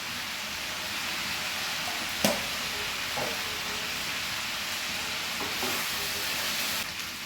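Bengali mutton curry with potatoes sautés uncovered in a pan, a steady close sizzle as it is slowly stirred, with a single sharp spoon scrape partway through.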